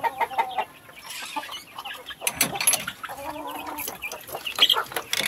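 Hens on a rural farm clucking in irregular bursts, close and moderately loud, with scattered rustling and other farmyard sounds between calls.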